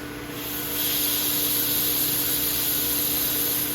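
Water sprays hard from a pool filter valve during backwash, a steady broadband hiss that rises after the first half second and stays loud and continuous, close by, with no voices.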